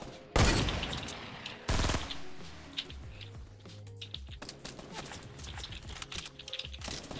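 Gunfire in the Fortnite battle royale game: two loud, close bursts of shots near the start, then quieter scattered pops and clatter spread out irregularly over the remainder.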